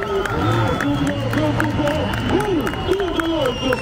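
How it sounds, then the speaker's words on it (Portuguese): A large crowd at the Fafe Super Test of a 2024 enduro event claps and cheers in a steady, dense roar that fills the whole stretch, with a loud voice carrying over it. "palmas para a FIFA com esse aplauso!"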